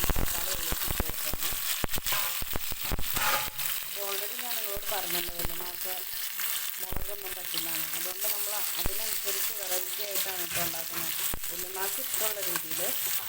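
Onions sautéing in a pan for a Kerala-style home curry, with a continuous oily sizzle and the scrape of stirring running the whole time, while a voice speaks faintly underneath.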